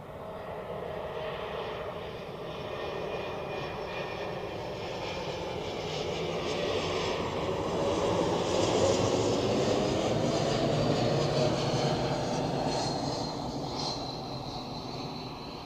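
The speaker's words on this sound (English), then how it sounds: "For the Croatia Airlines A220" A Croatia Airlines Airbus A220 arrives at Zurich Airport from Dubrovnik. Its distant engine whine and soft rushing roar build gently, peak midway and then ease off, fairly faint and with no talking.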